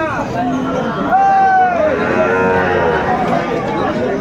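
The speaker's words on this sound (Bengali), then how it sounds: "গাভী এবং বাছুর আমরা দেখছিলাম।" Cows and calves low at a busy rural cattle market at Aftabganj, Dinajpur, with several drawn-out moos rising over a background of crowd chatter and nearby talking voices.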